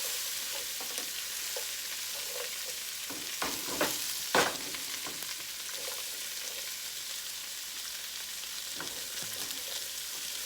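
Green beans and bacon sizzle in a pan while a utensil stirs them, with a steady fry and a few scraping clatters near the middle, close and moderately quiet.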